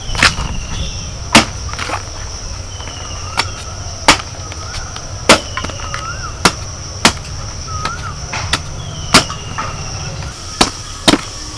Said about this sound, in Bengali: এই যে কাটছি না কাটা দেখলেই বোঝা যাবে যে কতটা কচি